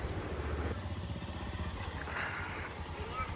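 A motorcycle engine rumbles steadily as the bike moves off, a low continuous drone with some clatter, fairly close and fading slightly, under faint background voices.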